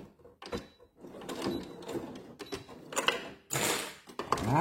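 A sewing machine stitches fabric in short, irregular bursts of rapid mechanical whirring and clicking, with brief pauses and handling knocks between the runs.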